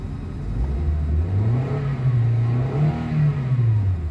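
A Toyota Avanza engine with a throttle delay fault revs up to about 4,000 RPM and holds a high, wavering whine, dipping and rising again, loud and close with no talking.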